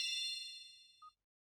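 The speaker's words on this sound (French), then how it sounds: "Une seconde, mon téléphone sonne." A mobile phone gives a single bright, bell-like chime that rings out and fades over about a second, followed by a tiny short beep, in otherwise quiet surroundings.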